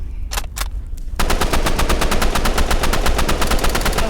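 Rapid automatic gunfire in the shooting video game Rivals, loud and close, with a few separate shots first and then a long, steady burst of fast repeated shots with no talking.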